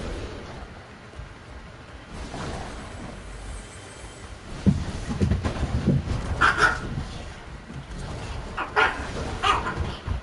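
Several dogs bark and yip in scattered bursts at moderate distance over a steady wash of rain.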